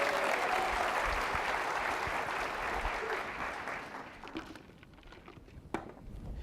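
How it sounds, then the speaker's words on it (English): Applause from a conference audience fills the room, a dense, steady clatter of many hands that slowly thins and fades toward the end, leaving scattered last claps. "I don't think that was good enough. Put some excitement into it."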